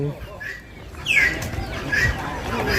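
Chickens, including black chickens, cluck and squawk at a busy Lao market selling live animals, several short calls over crowd murmur and nearby voices.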